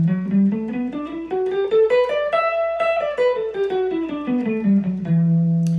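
An electric guitar plays a scale of single notes, rising steadily over two octaves and then descending back, ending on a held low note.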